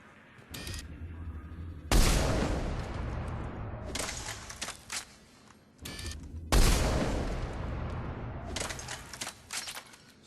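Widow sniper rifle firing in Mass Effect 3 during target practice, two loud, sharp cracks about four and a half seconds apart, each followed by a long booming tail and scattered mechanical clatter, with no talk.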